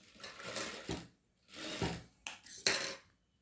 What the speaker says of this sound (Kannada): ಲಾಸ್ಟ್ ಎಡ್ಜಲ್ಲಿ ಈ ಥರ ಸ್ಟಿಚ್ ಹಾಕಿ.